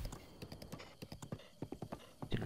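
Horse hooves galloping in Zelda: Breath of the Wild, a rapid, rhythmic clip-clop of repeated hoof strikes at close range, fairly quiet.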